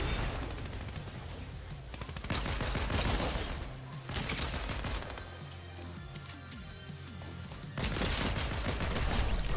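Rapid pistol fire in a Fortnite Chapter 4 match, crackling in dense bursts and volleys with brief lulls between them, loud and busy throughout.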